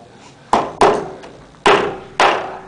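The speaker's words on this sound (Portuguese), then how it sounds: "2 marteladas." Four sharp hammer blows land while a studio set is being assembled, two close together, a pause, then two more, each a loud percussive knock with a short decay, no voices.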